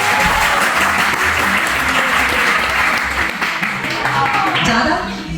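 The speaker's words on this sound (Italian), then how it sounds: "Un applauso per Matteo" A small group applauds for Matteo with dense, continuous hand clapping close by, steady for about five seconds and then easing off slightly, with voices mixed in.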